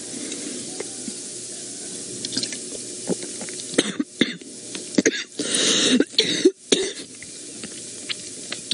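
Several harsh coughs and throat-clearing bursts after a quiet stretch, loud and close, in a rough irregular cluster, from choking on water.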